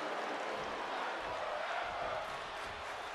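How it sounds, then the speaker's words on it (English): A dense, steady crowd roar fills a virtual wrestling arena during a back-and-forth WWE 2K23 Universe Mode match, holding at an even level throughout with no clear breaks. "The crowd, an absolute appreciation of the back and forth matchup we are witnessing right now"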